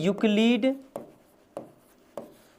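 A teacher writes a maths solution on a board, with three sharp, evenly spaced taps and strokes of writing following a short spoken phrase.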